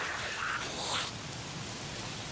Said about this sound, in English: Damn rain.